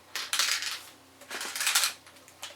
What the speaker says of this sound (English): You can hear the ball bearing that's supposed to be going on in there.